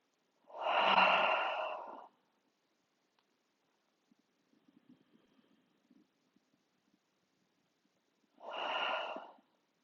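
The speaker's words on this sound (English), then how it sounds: "continue breathing however you need to. It could be in and out through your nose or your mouth." Slow yoga breathing during a high lunge and warrior 3 sequence: two long, close, airy breaths about seven seconds apart, with faint rustles in the quiet gap between them.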